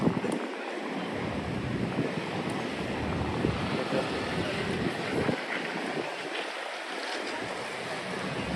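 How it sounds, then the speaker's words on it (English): Gusty wind buffets the microphone in a continuous low rumble and roar, with broad outdoor noise underneath and no clear voices, on a summer afternoon in New York City. "It is a bit windy though."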